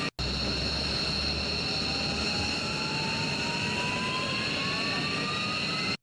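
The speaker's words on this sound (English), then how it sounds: "Now the engines are starting." A loud jet engine roar as aircraft engines start, with a whining tone that slowly rises in pitch as it spools up, continuous and close.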